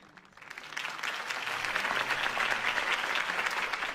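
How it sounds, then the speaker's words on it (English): A crowd bursts into sustained applause after a campaign speech in the Batman Telltale video game, dense clapping that rises quickly and holds steady. "If only Mr. Wayne, my campaign's largest backer, could have heard that applause"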